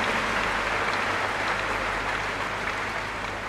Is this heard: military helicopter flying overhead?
no